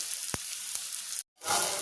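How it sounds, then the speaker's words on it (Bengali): Chopped onions frying in oil in a pan for Bengali-style eggplant bharta, a steady close sizzle with a couple of sharp pops, briefly cutting out before the hiss resumes. "পেঁয়াজটা লাল লাল করে ভেজে নেব"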